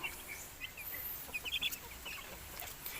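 Seven-day-old broiler chicks and native chickens cheep and cluck in soft, scattered peeps, fairly close but quiet, with a brief cluster of calls in the middle.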